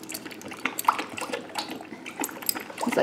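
A dog laps water from its bowl right after a cold-weather walk, with soft, irregular wet splashes and drips close by, faint and scattered across a few seconds.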